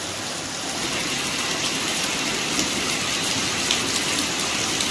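Torrential rain in Khadimabad, Dadyal, pouring down as a steady, loud, dense hiss of drops striking surfaces, continuous and unbroken with no voices.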